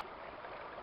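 A small stream in central Québec flows in a steady, soft wash of water, faint and continuous with no voices.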